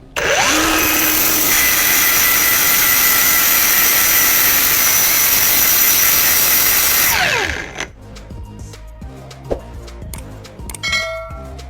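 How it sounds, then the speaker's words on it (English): Power grinder flattening a freshly cut metal surface with threads, a loud continuous high whine that spins down after about seven seconds, then scattered clanks and handling noises. "The freshly cut surface was then ground flat to remove the remaining threads"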